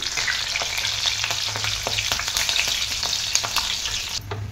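Green chilies frying in hot oil in a home kitchen for a simple khichdi meal, giving a steady, dense sizzle with light crackles and occasional stirring throughout, no voices.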